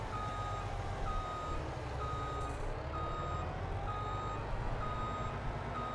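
A truck in Farming Simulator 22 beeps steadily while reversing, evenly spaced tones repeating over a constant engine rumble with no talking.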